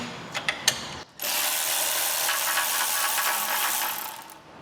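Ratchet on an oil sump pan bolt of a Fiat Grande Punto: a few quick clicks, a brief pause, then a steady, fairly loud unbroken ratcheting run lasting several seconds with no talking.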